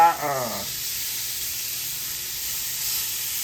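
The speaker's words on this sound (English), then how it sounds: "We're gonna go in here with this fish and get it grilled off." Flounder fillet grilling in a hot grill pan, a steady sizzle and hiss running throughout at close range after a short burst of speech at the start.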